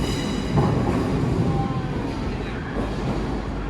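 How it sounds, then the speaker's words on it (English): Loud, steady rumble of a train rolling past close by, a continuous rail drone with faint metallic squeal tones throughout. "That was an awesome train. We just saw it going by."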